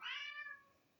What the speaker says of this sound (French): Amour, c'est mon chat.